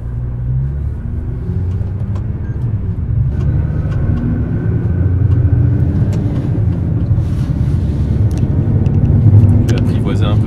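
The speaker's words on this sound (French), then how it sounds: "Ah, les pneus ils sont bruyants sur celle-là du coup." Slick tyres on a Japanese sports car from the Toyota Supra and Nissan lineup, a steady loud rolling road roar with engine rumble underneath, heard from inside the cabin as people talk in French.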